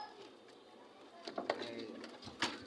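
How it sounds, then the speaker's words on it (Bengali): Pigeons in a home loft, including Sapchila, Gola and Girbaz breeds, give a few soft, faint coos with light rustling over a quiet background. "এই যে এই একটা কবুতরকে বলে সাপচিলা।"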